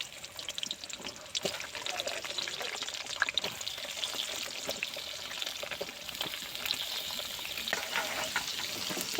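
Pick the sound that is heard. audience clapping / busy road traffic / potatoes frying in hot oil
potatoes frying in hot oil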